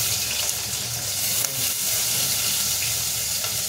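Chopped onions frying in hot oil in a home kitchen, a steady close hiss of sizzling that runs evenly throughout with no talk over it.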